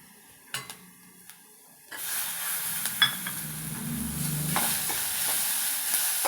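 Turmeric hits hot oil for a dal tadka with a sudden burst of steady, close sizzling. A few light clinks come first, then the frying continues with soft stirring scrapes.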